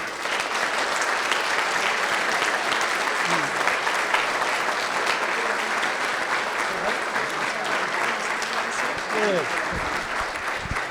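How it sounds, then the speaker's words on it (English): Sustained audience applause for a farming-future speaker panel, dense steady clapping from a crowd holding for about eleven seconds, with a few voices rising briefly near the end. "can we have a big round of applause for all our panellists"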